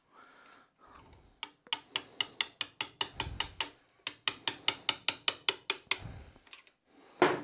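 A screwdriver is tapped along the seam to pry open a BSA engine case from a Wedge Tank motorcycle, giving about twenty sharp, close metallic taps in a steady, quick rhythm with brief pauses.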